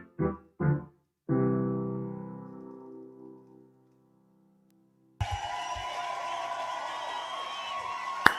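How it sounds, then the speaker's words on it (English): Audience applause and cheering break out as a dense, steady roar at a quarantine concert, following a few sustained musical notes that ring out and fade into silence. "I like your applause."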